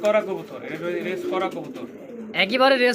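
Kashmiri racer pigeons coo close by, a run of low, throaty, repeated coos over a few seconds, with a louder burst at the end.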